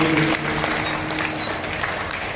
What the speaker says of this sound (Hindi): एक बार जोरदार तालियां मातृशक्ति संगठन के लिए।